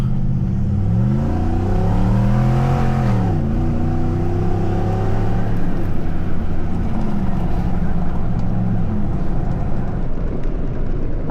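A Jeep Gladiator with a 5.7 Hemi drives a gravel road in the Ozarks, its loud engine drone rising and falling through gear changes over a constant close rumble of tires on gravel.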